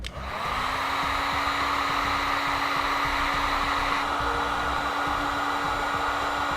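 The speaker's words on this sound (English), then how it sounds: "We'll now use a heat gun, which we have available on our website," A heat gun blows a steady, loud whooshing drone with a faint hum while shrinking a heat shrink butt connector on trailer wiring, continuous and close with no talk.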